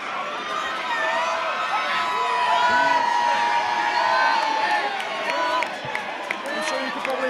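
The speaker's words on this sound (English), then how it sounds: "I'm sure you can hear the crowd going wild" A fight night crowd roars, cheers and chants "Yorkshire" during a ring walk, a dense, loud wall of shouting voices that swells and dips over several seconds.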